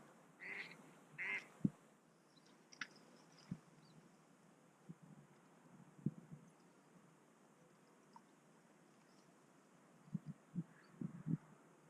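Faint ducks quack a few times in the distance over a quiet outdoor background on the River Ouse while fishing, with scattered soft knocks and bumps nearby.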